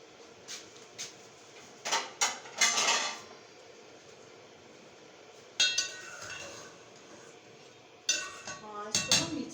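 Washed plates and dishes handled in a home kitchen while rice and chana dal cook. Clinks and clatters come in short bursts, separated by quiet pauses.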